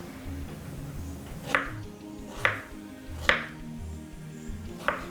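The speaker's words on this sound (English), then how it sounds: "we're going to cut in a few slices of strawberries" A knife slicing strawberries on a board gives four sharp, evenly spaced cuts, close and clear, over a quiet background.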